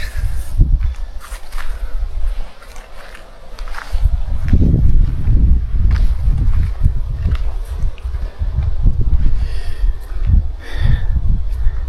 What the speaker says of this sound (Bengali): হাওয়া হচ্ছে, ঠান্ডা হাওয়া